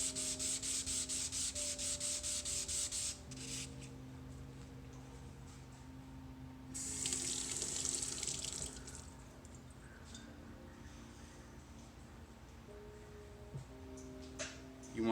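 A G10 fiberglass panel is wet-sanded by hand, with steady back-and-forth rubbing strokes, rhythmic and close, over a faint hum in the background; no one speaks.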